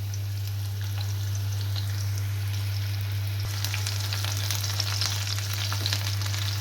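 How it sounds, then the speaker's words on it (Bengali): Chopped onions sizzling in soybean oil in a wok, a steady close frying hiss with brief stirring scrapes, over a constant low hum. "এখানে কেটে রাখা পেঁয়াজ কুচি দিয়ে দিচ্ছি ভাজার জন্য।"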